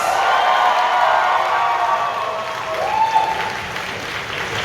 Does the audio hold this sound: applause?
yes